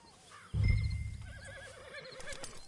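Horse in the Red Dead Redemption 2 video game gives a sudden loud snort and then a long wavering whinny, close by and clear, with soft stable ambience behind it.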